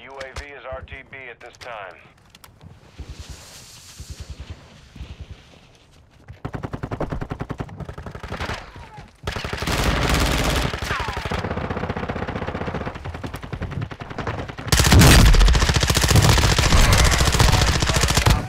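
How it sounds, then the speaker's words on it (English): Gunfire in Call of Duty DMZ, rapid bursts of automatic fire that grow louder and denser through the fight, mixed with game effects and talk. "You are taking effective fire."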